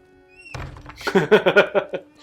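Someone knocks on a garden gate in an animated Avatar: The Last Airbender episode, with a dull thunk followed by a quick series of about six close, hollow raps.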